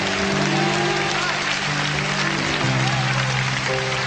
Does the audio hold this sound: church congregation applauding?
yes